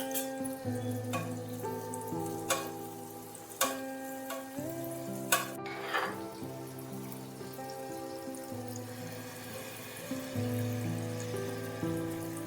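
Malpua batter frying in hot oil in a pan, a steady bubbling sizzle running throughout with a few sharp clinks of utensils, while a musical backdrop plays.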